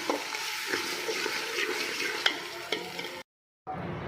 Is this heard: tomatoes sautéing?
yes